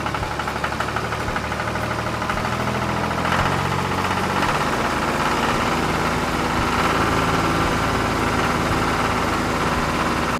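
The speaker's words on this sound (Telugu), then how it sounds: "స్లోగా ట్రాక్టర్ ఎదరకొచ్చేస్తది అంతే." A tractor engine runs steadily as the tractor creeps slowly forward, a loud, continuous mid-to-low rumble with a knocking idle texture that holds the same level from start to finish, with no talking.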